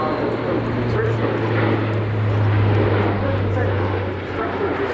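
An Airbus A400M military transport plane flies at an air show, its turboprop drone steady and loud throughout with a constant low hum and broad roar, under faint commentary.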